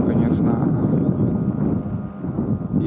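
A motorboat engine drones in a steady low rumble, partly masked by wind buffeting the microphone.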